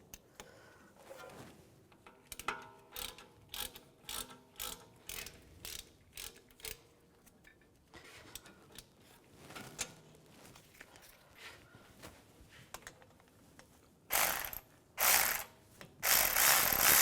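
A hand ratchet tightens bolts on a front CV axle of a 2004-2010 BMW X3, giving repeated bursts of quick clicking pawl ticks with short pauses between strokes, close and clear, louder toward the end.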